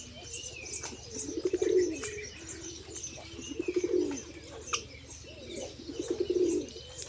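A pet pigeon coos in repeated soft, throaty bursts, each a rolling low murmur, with faint chirps and a little wing noise against a steady low hum, fairly close and with no talking.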